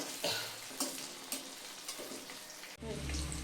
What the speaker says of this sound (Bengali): এই যে ভেজে নিচ্ছি কিছুটা করে